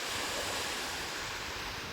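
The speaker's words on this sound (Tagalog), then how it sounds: "Grabe yung ng alon mga kababayan" Rough waves crash and surge at Dolomite Beach on Manila Bay, a continuous loud roar of surf with wind buffeting the microphone.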